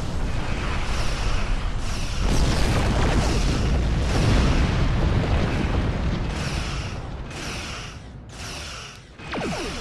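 Weapons fire and explosions in a Star Trek space battle game boom and rumble in heavy, overlapping bursts, loud and continuous, with sharper crackling blasts near the end.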